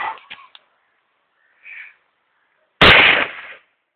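A single loud gunshot cracks close by during a hunt, with a short decaying tail, preceded by faint scattered clicks and a brief soft noise.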